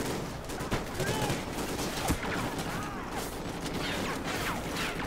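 Repeated gunfire in Call of Duty: Ghosts aimed at the player, with sharp cracks and short bursts scattered through a busy, noisy battle and occasional ricochet-like whines, all at moderate level.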